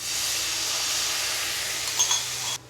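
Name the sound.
sizzling as spice paste water is added to the pan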